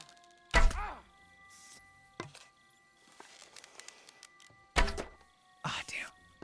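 Arrows being shot in the medieval video game Kingdom Come Deliverance 2: two or three loud, close, dull thunks of arrows striking, with faint whispery voices and quiet rustling between the impacts.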